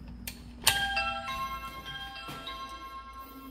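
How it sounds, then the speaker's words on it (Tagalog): A doorbell chimes at a house entrance in Korea, a bright ringing tone that sustains and decays over a few seconds, with a second softer strike, against quiet background hum. "Mag-doorbell tayo, doorbell."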